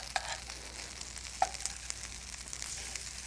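A Walden Farms oatmeal breakfast cake fries in a pan after being flipped, giving a steady low crackling sizzle with a few soft knocks and scrapes, close by, no talking.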